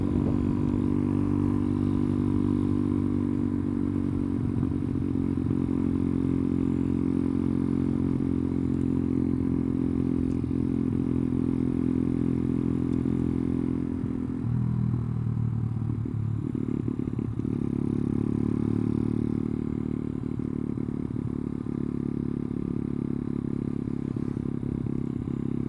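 A Skyteam Dax motorcycle cruises at one steady RPM, giving a loud continuous droning engine note with wind rush and little change in pitch throughout.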